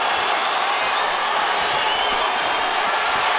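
A boxing crowd at Staples Center roars and cheers after the final round of a Davis fight, a dense, steady wall of voices and applause filling the arena without a break.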